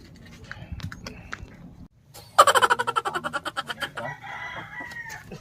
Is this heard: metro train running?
no